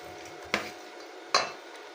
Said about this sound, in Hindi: अब ये सब डाल के अब इसको मिक्स करना है।